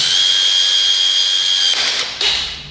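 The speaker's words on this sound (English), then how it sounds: "drill in forward motion" A cordless drill runs forward with a Drill Pop Riveter attachment fitted, a loud close high-pitched whine held steady for nearly two seconds, then a quick stop and a short second burst.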